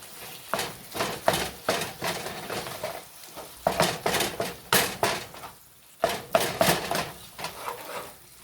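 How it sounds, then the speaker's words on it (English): Ground beef browning in a pan for homemade tacos, with close sizzling and a run of sharp, repeated spatula scrapes and stirring clatters rising and falling in bursts. "let's get this ground beef started cooking"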